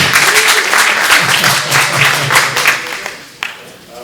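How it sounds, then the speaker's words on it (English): Applause from an evening audience at a student success governance institute session, a dense patter of many hands clapping that thins and fades toward the end, with a faint voice or two underneath. "All right, is that worth a round of applause?"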